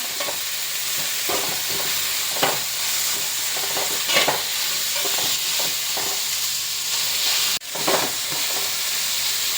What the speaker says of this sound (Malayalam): അപ്പോൾ നമ്മൾ സവാളയെല്ലാം അതിനകത്തോട്ട് ഇട്ട് കൊടുത്തിട്ടുണ്ട് ഇനി അത് നന്നായിട്ട് ഇളക്കാൻ നമുക്ക് നമുക്ക് നമുക്കിതൊന്ന് ഇളക്കി യോജിപ്പിക്കാം